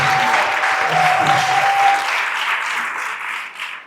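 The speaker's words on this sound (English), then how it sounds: "A round of applause as he steps forward" Steady, dense applause from a conference audience at a Pan-African leadership symposium as a former Senate President of Burundi steps forward. The clapping holds loud and even for a few seconds before tapering off.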